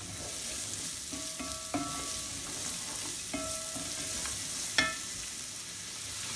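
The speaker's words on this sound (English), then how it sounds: "fry them for 2 to 3 minutes, and then I'll add the water." Vegetables sizzle steadily in a pan for tomato soup, with occasional scrapes and clinks of a utensil stirring them, moderately close and without talk.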